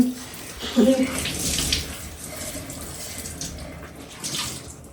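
Tap water runs steadily as something is rinsed and washed beneath it, with brief splashes near the start and faint voices in the background.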